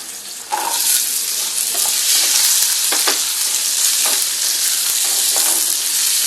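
Small shallots fry in oil in a pan for a potato kurma, a loud, bright, continuous sizzle that starts abruptly and carries several spoon stirs and scrapes, close up, with no speech.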